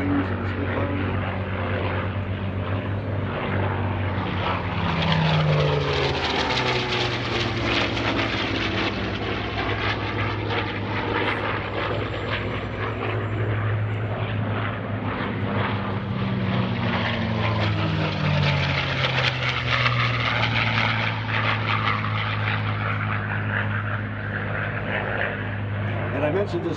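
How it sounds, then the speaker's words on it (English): A World War II P-40 Warhawk and a Spitfire make a flying pass at a World War II weekend airshow, a continuous propeller engine drone that swells and shifts in pitch as the fighters pass, with announcer talk over it. "Beautiful photo pass by the P-40 Warhawk."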